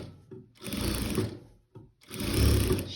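A sewing machine stitches along the edge of a quilt in two close, whirring bursts of rapid stitching, with a brief pause between them and no talking.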